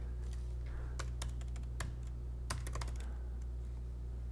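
Computer keyboard keys clacking in short irregular bursts of typing, fairly close and clear, over a steady low electrical hum while using a mixed-reality headset workspace; no one speaks.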